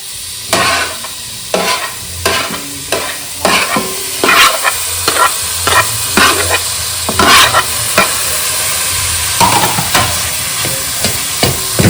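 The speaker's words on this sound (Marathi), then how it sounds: "मसाला फ्राय करून घ्यायचा" Masala spice paste frying in a pan, stirred with repeated sharp scrapes every second or so over a constant loud sizzle, close and without talk.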